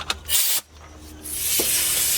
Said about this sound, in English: Spray some, a little bit.